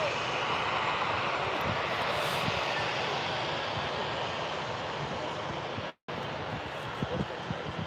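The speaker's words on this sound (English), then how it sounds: "So get ready, guys, for this Emirates A380. 2 minutes out. The big aircraft due in." Emirates Airbus A380 approaching Birmingham airport, a steady broadband jet roar holding level throughout, with one brief dropout near the end and some wind rumble at the microphone.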